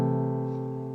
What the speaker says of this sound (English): Sometimes it's preferable to substitute the 6th of the chord instead of the major seventh, and that's going to sound like this